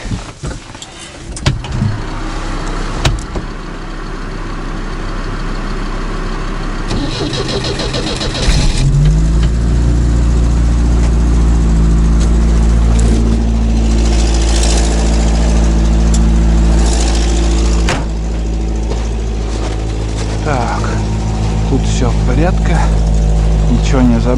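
A UAZ engine cranks and catches in freezing cold, then settles into a steady, loud, close idle with a low rumble that runs for most of the stretch. A voice talks briefly near the start.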